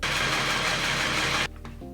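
A sewing machine runs fast and loud right up close while stitching a Ghostface mask shroud, a steady mechanical whir that cuts off abruptly, followed by a quieter lower motor hum.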